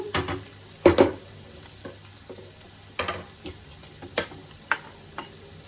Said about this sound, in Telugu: కరివేపాకు వేసుకొని మంచిగా కలుపుకోవాలండి